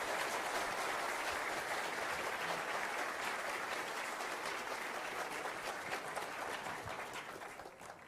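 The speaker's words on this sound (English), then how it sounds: "Please, a round of applause for both of our presenters." Audience applause after a climate science debate, a dense steady roar of clapping that fades slightly toward the end, with no voices over it.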